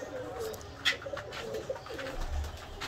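Pigeons coo softly and close by while grain is scattered for them, with low rumbling coos and a brief flutter-like sound.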